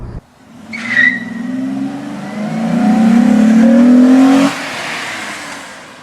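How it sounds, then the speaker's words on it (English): Engine of a 2002 Honda Odyssey minivan revs up, rising steadily in pitch to a loud peak before dropping back to a lower idle-like drone, heard up close with no talking. "And the engine of these sounds good too."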